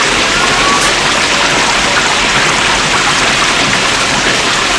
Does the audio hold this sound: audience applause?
no